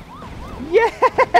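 A synthetic siren from an ambulance in the video game Poly Bridge 2 wails in rising and falling sweeps, then breaks into short quick yelps, loud and close, with faint voice underneath.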